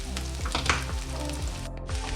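Sliced zucchini fries in a hot pan with a steady, close sizzle and crackle, broken by a few soft stirring scrapes and light clinks.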